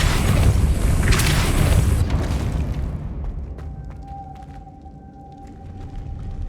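Depulso spell cast in the video game Hogwarts Legacy: a deep booming whoosh that swells for a couple of seconds then drops away, leaving a faint high ringing tone and scattered light clicks.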